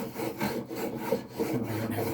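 A hand plane with a somewhat dull blade levels a wooden bass neck blank, giving repeated rasping strokes of wood shaving in a steady back-and-forth rhythm, close and moderately loud with no talk.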